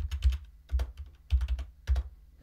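Close, crisp keystrokes on a computer keyboard while entering a Linux terminal command, coming in four short bursts of rapid clicks with brief pauses between them, and no voices.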